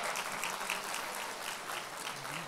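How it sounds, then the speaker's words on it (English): Steady audience applause at a community event, a dense and even patter of many hands clapping at a moderate distance, continuing at a level volume throughout. "Let's give them all a round of applause."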